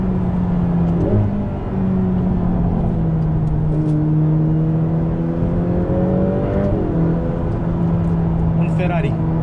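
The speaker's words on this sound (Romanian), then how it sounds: "Mi-am găsit când să conduc un Ferrari." A Ferrari F8 Spider drives on a rainy road, its engine droning steadily with a rising pitch as it accelerates, loud and close from inside the car, while someone talks over it.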